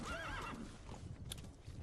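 A horse in Metal Gear Solid 5: The Phantom Pain neighs, a clear whinny followed by faint hoof clip-clops, heard quietly and alone.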